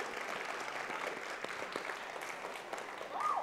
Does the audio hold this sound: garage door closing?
no